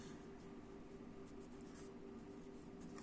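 Pen writing on paper during a maths lesson, a continuous close scratching texture over a steady background hum, with no talk.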